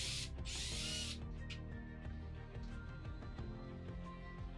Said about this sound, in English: Now we're going to remove the screw that's holding that bracket.